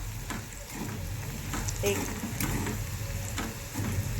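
Cut potato pieces frying in oil in a pan with salt sprinkled over, a dense continuous sizzle with soft stirring scrapes, partly under a voice.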